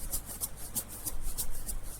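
A shaker processed with EQ in a pop song mix, built in FL Studio: crisp, bright shakes repeat in a steady quick rhythm, close and moderately loud over a faint low musical bed.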